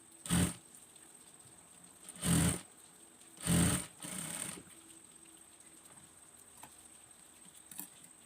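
A sewing machine back-stitching a child's abaya runs in three short bursts and one longer one, each a rapid mechanical whir, with quiet pauses between and a faint click near the end.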